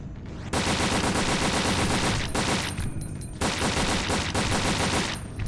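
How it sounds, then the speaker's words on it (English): Rapid gunfire from shooting in the Resident Evil: Dead Aim video game, loud and dense, in two long sustained bursts separated by a brief lull. "Now we continue shooting."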